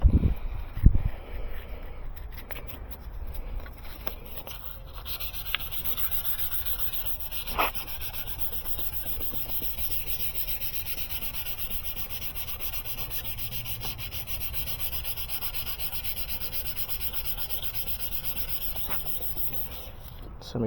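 Hand sanding on a 2014 Mercedes headlight lens makes a continuous close, raspy rubbing with steady back-and-forth scrubbing and a few small knocks near the start.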